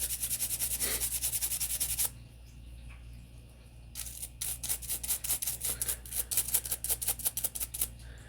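Scrubbing crud off the follower of a Sig Sauer P365 magazine produces rapid, rhythmic close-up brushing strokes, a fast burst, then a short pause and a quieter scratch before the steady strokes resume.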